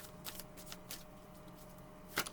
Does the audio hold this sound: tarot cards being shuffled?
yes